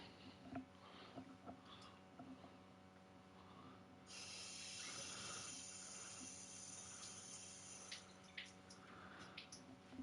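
Tap water runs from a faucet into a cat's water bowl, a soft hissing stream starting partway through and lasting a few seconds amid faint room noises and small clicks.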